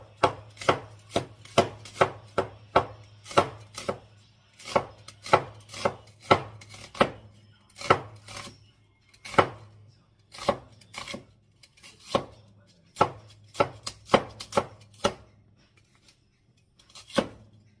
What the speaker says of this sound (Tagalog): Ngayon, hiwain na natin ang ating sibuyas.